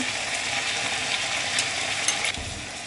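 Stir-fry tossed and stirred in a wok after fish sauce, soy sauce, brown sugar and tamarind go in, a steady close sizzle of frying with scraping stir strokes throughout, no talk.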